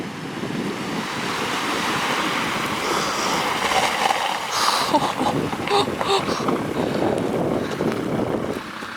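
A camper van fords a rocky river during the rainy season in Mongolia, with a steady rushing wash of water and churning splashes around the vehicle that stay loud and close throughout.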